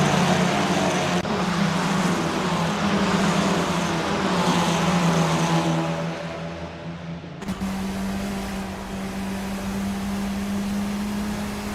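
Formula 4 race cars at Bathurst in Assetto Corsa, a steady droning engine note with shifting pitch from a car in the pack, then a sudden cut to a deeper constant engine tone, no talk.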